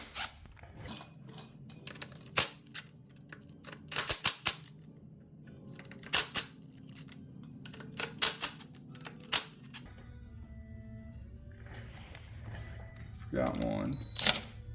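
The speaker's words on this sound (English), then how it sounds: "I'm just going to go around and break all these bolts real quick" A hand tool breaks loose bolts on a KTM starter clutch cover, giving sharp, separate cracks and ratchet clicks at irregular intervals, some in quick bursts, over a low steady hum. Someone talks at times.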